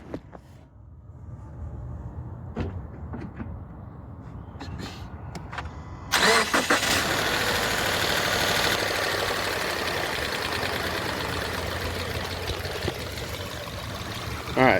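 A 2018 Subaru Forester engine cranks and catches on a warm start, then settles into a steady, loud idle that continues throughout, heard close by.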